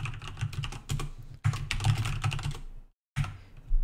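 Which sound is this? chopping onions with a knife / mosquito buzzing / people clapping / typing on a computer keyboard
typing on a computer keyboard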